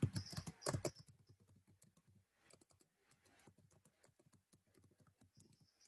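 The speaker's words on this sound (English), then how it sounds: "So I will type something." Typing on a computer keyboard, a rapid patter of light key clicks running steadily throughout, louder in a brief burst at the start then softer and close.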